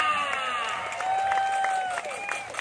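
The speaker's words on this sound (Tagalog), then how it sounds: "Palakpak!" An audience at a comedy duo's club anniversary show claps and cheers steadily, with a dense wash of applause and raised crowd voices sustained throughout.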